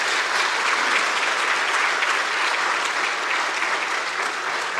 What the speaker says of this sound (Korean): 여러분 박수 해주시기 바랍니다.